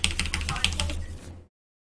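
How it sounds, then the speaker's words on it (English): Board game cards for a Star Wars Rebellion tournament game are shuffled close by in quick, crisp riffling bursts for about a second and a half, then cut off into silence. "Pop them in and shuffle."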